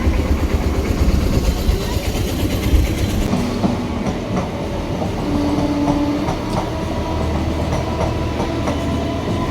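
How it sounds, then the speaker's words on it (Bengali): A train rumbles past close by, steady and loud, with rhythmic clacking of wheels on the rails and a low engine drone throughout. "এই যা না ট্রেন গেছে"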